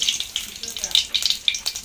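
Cooking oil sizzles and crackles in a wok on a home stove, faint and close, with irregular bursts of spattering.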